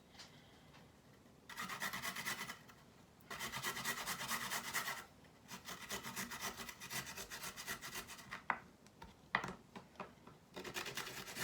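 A carrot being grated for meatloaf, quiet rhythmic rasping strokes in several runs with brief pauses between, close and soft with no talking.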